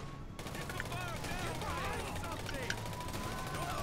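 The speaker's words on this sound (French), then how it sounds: "Oh, je me fais tirer dessus." Video game gunfire aimed at the player during a heist, a dense continuous clatter of rapid shots and impacts over steady background noise.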